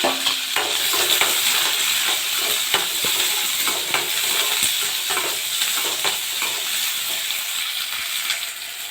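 Garlic, onion, ginger, cinnamon, cloves and peanuts frying in hot oil in a pan for an eggplant curry, with a steady close sizzle and repeated stirring scrapes and clinks throughout.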